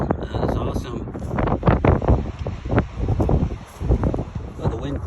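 Gusty wind buffets a microphone outdoors at a children's play place, rising and falling in rough bursts, with a person talking over it.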